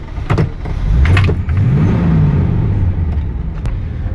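A 1966 Oldsmobile Cutlass, freshly fitted with a new radiator, carburetor, fuel tank and pump, rumbles loud and close as it is driven, the engine note rising and settling with gear and throttle changes.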